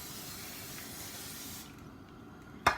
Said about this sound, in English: we're going to spray the non-stick spray